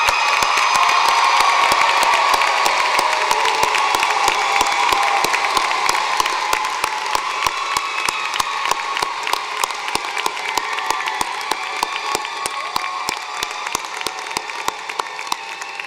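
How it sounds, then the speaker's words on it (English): Commencement audience applauding first-generation college graduates: a long, thick roar of clapping with some cheering, loud at first and gradually thinning over about sixteen seconds. "Let's give them a big round of applause."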